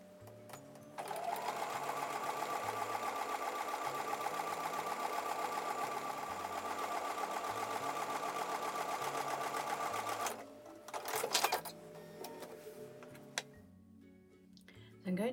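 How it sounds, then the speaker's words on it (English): A sewing machine stitches a quarter-inch quilt block seam in a fast, steady mechanical chatter for about nine seconds, then stops; some brief handling noises follow. "I'm going to take those over to the sewing machine and sew along that edge"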